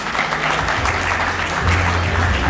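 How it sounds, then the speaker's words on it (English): Audience applause at a high school graduation ceremony, a dense, steady wash of clapping from a large crowd that holds even and loud throughout, with a low hum underneath. "A most deserving applause for this unshakable Mariam"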